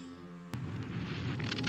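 A cobalt bomb nuclear explosion plays back as a sudden loud boom, then a sustained heavy rumbling roar that holds to the end, with a steady tonal hum audible beforehand.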